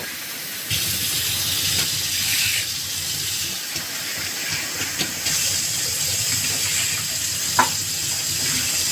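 Motor dal (split peas) being washed under running tap water, a steady hissing flow with small splashes and clinks throughout, fairly close and continuous with no talking.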